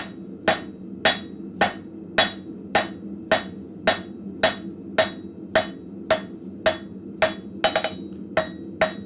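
In a blacksmith shop, a hammer taps out an arrowhead taper on thin scrap steel: sharp ringing strikes fall at an even rhythm of about two per second, loud and close, with nothing else over them.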